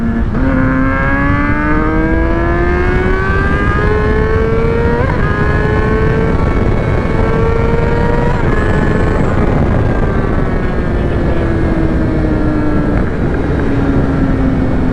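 Yamaha R6 street fighter motorcycle ripping hard through the gears, its loud high-revving engine climbing in pitch again and again with quick drops at each shift, close and continuous for the whole stretch.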